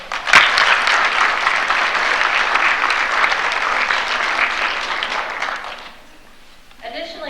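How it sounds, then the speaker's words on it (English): A crowd at a school winter sports awards ceremony claps loudly for about six seconds, the sustained applause fading out, followed by a moment of quiet and then a voice starting to speak. "I think she deserves a round of applause right now."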